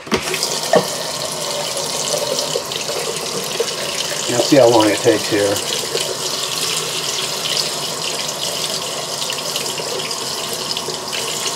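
Hot water tap running steadily in a 2022 XLR Boost 37TSX13 RV with on-demand hot water, a constant hiss of flowing water, with someone talking briefly over it.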